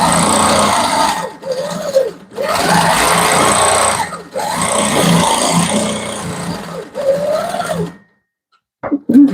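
A sewing machine doing free-motion quilting of large feather plumes on a wedding ring quilt runs in steady, close, loud bursts with brief pauses between them, then stops near the end.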